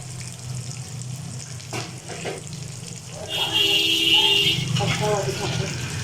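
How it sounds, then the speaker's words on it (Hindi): Pre-cooked chicken frying in a pan to brown, with a soft sizzle, occasional stirring clatter and a burst of running water, under quiet background noise. "सिर्फ इसको हमने अब ज़रा फ्राई करना है ताकि इसकी ना ज़रा शेप ब्राउन हो जाए थोड़ी सी"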